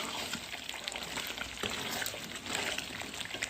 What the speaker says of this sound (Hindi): अब हम डालेंगे इसके अंदर पानी